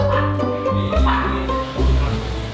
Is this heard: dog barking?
yes